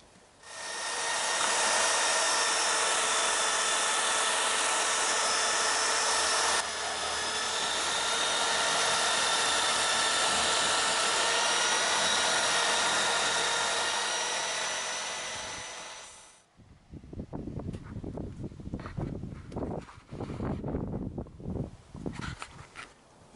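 A power tool whines loudly and steadily for about sixteen seconds while cutting overlong bolts off Yamaha XJ900S Diversion brake parts, then stops abruptly, followed by rougher, uneven bursts of grinding or rattling, all close by with no speech.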